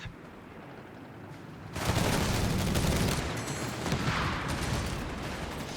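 Dense gunfire rattles through a Company of Heroes 3 battle between Afrikakorps and US Forces, a quieter stretch giving way to loud sustained volleys of rifle and machine-gun fire with no voices.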